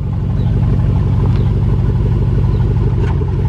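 A 2003 Chevy Tahoe 1500 with the 5.3 engine runs at a loud, steady idle during a transmission test, giving a close, deep rumble with faint clatter and a couple of soft ticks.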